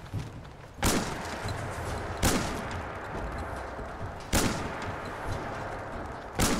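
Four loud shotgun blasts ring out in the Fallout 4 video game, spaced unevenly a second or two apart over a steady background hum, with no talk.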